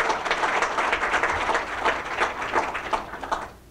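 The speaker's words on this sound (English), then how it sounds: "Please give him a round of applause." An audience at a school campus opening claps together in a dense, sustained round of applause lasting a few seconds, then tapers off.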